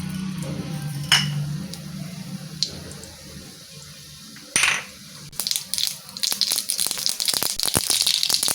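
Mustard seeds crackle and splutter in hot sesame oil in a pan, a dense run of sharp pops building from about five seconds after a few isolated clicks and a low early rumble.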